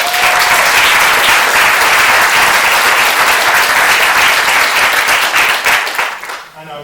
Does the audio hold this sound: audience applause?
yes